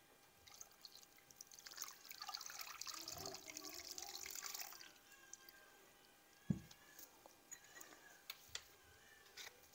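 About half a litre of water is poured for carrot jam, a soft close stream lasting several seconds before fading into quiet kitchen clatter and a few faint knocks.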